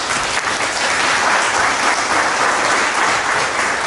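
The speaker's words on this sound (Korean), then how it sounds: "다시 한번 감사의 박수" Steady, full applause from a seminar audience at Paju Art Bunker in Korea, thanking the presenters; dense even clapping with no talk over it throughout.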